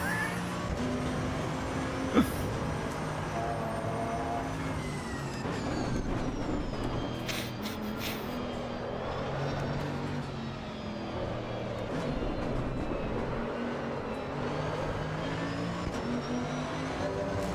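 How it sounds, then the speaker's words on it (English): Race car from Assetto Corsa Evo running over gravel, a steady broad crunchy rumble with engine tones sustained throughout, fairly loud and continuous. "Gosh, I hate that gravel sound."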